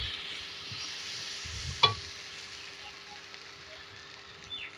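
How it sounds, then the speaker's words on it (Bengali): Potatoes sautéing in a pan for a stingray (shankar fish) curry, stirred with a ladle: a faint, steady hiss with one sharp clank of the ladle partway through. "এবার কষাচ্ছি আলুগুলো ভালো করে"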